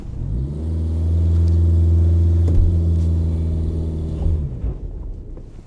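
A Toyota Corolla engine revs hard in reverse with the e-brake up, a loud, steady low rumbling drone that holds for several seconds before dropping off abruptly, then quieter idling noise.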